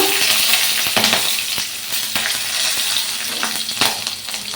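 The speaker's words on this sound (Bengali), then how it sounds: "সর্ষের তেলে রাঁধুনি ফোড়ন দিলাম" Radhuni seeds and green chillies tempering in hot mustard oil, a busy close sizzle and crackle with a few sharp pops and the scrape of a spoon stirring through the pan.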